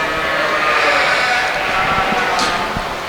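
Sheep bleat at a livestock show during placings of a class of yearling ewes, loud and close over steady crowd and hall noise, with a few voices in the background.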